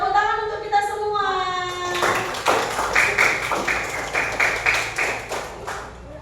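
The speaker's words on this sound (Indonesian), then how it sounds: "Tepuk tangan untuk kita semua." Fourth-grade classroom in Indonesia where children chant together, then clap in a steady rhythmic pattern, close and fairly loud, with voices mixed in.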